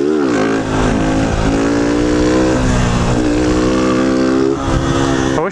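A motorcycle engine revs hard and stutters with misfires at high revs, loud and close throughout with a steady harmonic drone.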